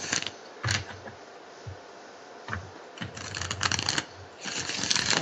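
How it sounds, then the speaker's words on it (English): A deck of playing cards is shuffled in several short riffling bursts, close and crisp, separated by brief pauses and ending in a longer run of rapid flicking. "I can just watch him shuffle cards all day."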